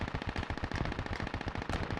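Machine gun fire in a military video game, a fast rattling string of shots at a steady rhythm. It sounds somewhat distant and fairly quiet, with no voices over it.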